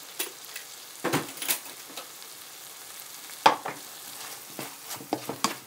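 Canned fish fried rice with sauce is stir-fried in a pan until almost dry, a soft sizzle under repeated scraping and tapping strokes of the spatula, close and uneven in rhythm.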